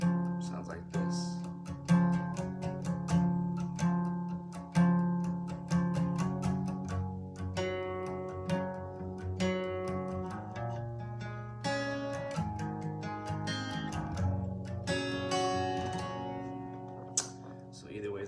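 Acoustic guitar chords strummed with an alternate pattern for a song, a continuous full-bodied rhythm of chord hits with no talking.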